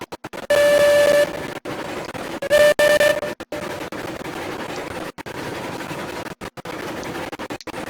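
A steam locomotive whistle sounds twice in Railroads Online, two loud steady blasts about a second long, with repeated sharp clanking and chuffing bursts from the engine around them.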